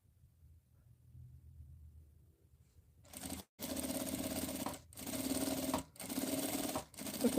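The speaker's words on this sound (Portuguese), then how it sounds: "Vou começar aqui pela alcinha. E eu vou passar uma costurinha na beiradinha de cá" A sewing machine runs straight stitches along the edge of a small bag strap in three or four close, steady bursts separated by short pauses, following a quiet lead-in.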